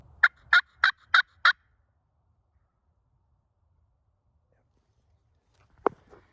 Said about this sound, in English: We got one gobbling at every noise we make, and he's coming, I think.